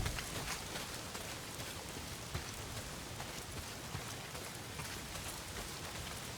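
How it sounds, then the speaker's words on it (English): Heavy rain pours down steadily in the video game Days Gone, a dense, even hiss close by with no speech over it. "Well, not if it's pissing down rain."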